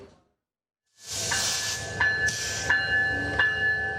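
A railway locomotive engine moves through the Pahartali railway workshop in Chattogram. After a second of silence a broad rumbling hiss starts up, with ringing metallic tones and several sharp clanks or squeals recurring over about three seconds.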